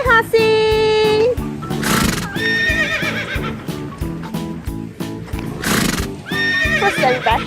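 A pony at a farm with kiddy rides whinnies loudly twice over a steady, close clip-clop of hooves, and faint voices sound in the background.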